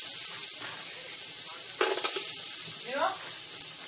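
Butter sizzles in a cooking pan, a close, steady hiss with a brief stir and a scrape of the spoon partway through, with no talking.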